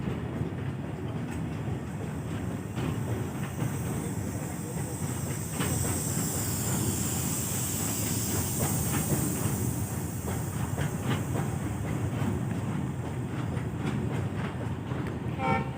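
A 52-wagon freight train crossing a rail bridge, a continuous loud rumble with rhythmic clickety-clack of wheels over rail joints and a hissing high edge, heard close and steady throughout.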